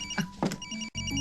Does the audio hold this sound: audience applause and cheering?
no